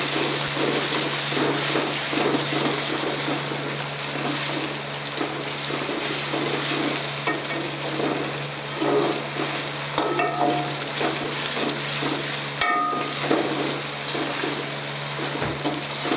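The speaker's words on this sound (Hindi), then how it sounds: "उन्हें अच्छे तरीके से फ्राई करेंगे।" Tinda (round gourd) fries in a pan with a steady, close sizzle, and a utensil scrapes and stirs through it in irregular bursts. No one speaks.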